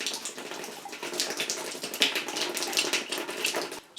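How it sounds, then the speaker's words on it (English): Water runs steadily from a freshly repaired broken plumbing pipe, a close, continuous hissing rush of flow with no talking. "Alright, here comes water."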